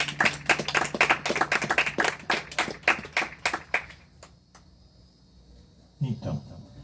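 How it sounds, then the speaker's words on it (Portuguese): A church congregation claps together in a burst of sharp, fairly loud hand claps for about four seconds, then the applause thins to a few scattered claps and trails off before a voice begins speaking. "Uma linda salva de palmas para a palavra de Deus."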